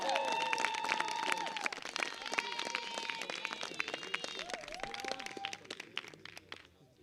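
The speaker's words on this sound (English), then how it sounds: "Let's give a big round of applause as she comes forward, please." Light, scattered clapping from spectators at an outdoor blind cricket match, mixed with crowd chatter, whistles and tonal voices or calls, fading toward the end.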